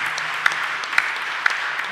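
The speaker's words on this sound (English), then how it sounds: "Okay, big applause to Federico." Audience applause after a startup pitch at a grand final event, steady dense clapping filling the whole moment with a few sharper claps standing out, moderately loud and continuous.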